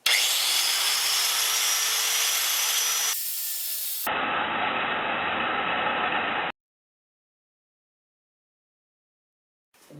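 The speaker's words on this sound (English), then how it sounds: "I need to cut a piece of 6mm Allen wrench so I can get it connected up to the impact wrench" Thick blade cutting through a 6mm steel Allen wrench during motorcycle fork disassembly, a loud continuous grinding rasp for about six seconds that cuts off abruptly, followed by near silence.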